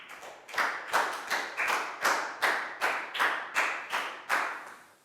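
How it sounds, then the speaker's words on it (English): Schoolchildren in a Year 4 maths classroom clap in unison, about a dozen loud, sharp claps in an even rhythm, close by, with no talk over them. "a big round of applause for Ned, please, guys."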